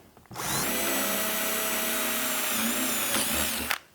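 A power drill with a 6.5 mm bit drills through wood for about three seconds, whirring steadily, loud and close, starting abruptly and cutting off sharply at the end.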